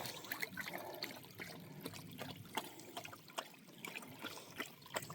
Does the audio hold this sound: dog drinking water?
yes